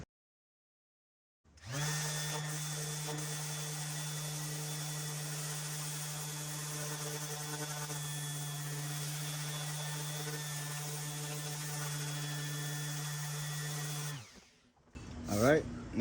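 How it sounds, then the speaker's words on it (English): A DA sander with 60 grit roughing up the body surface of a 96-00 Honda Civic, a steady loud whine with a low hum held for about twelve seconds, then cutting off. "So let's rough this up with 60 grit on my DA sander."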